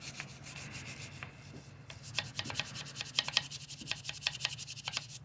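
A brush loaded with wheel cleaner scrubbing hard at spots on a car wheel, producing quick, rhythmic bristle strokes that speed up into a dense run of rasping rubs, close and moderately loud over a low background hum, with no talking.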